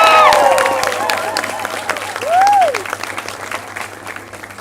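Steady audience applause rolls through a hall at a medical school pinning ceremony, a dense continuous wash of clapping that slowly fades, with brief whistling tones and a faint hum underneath.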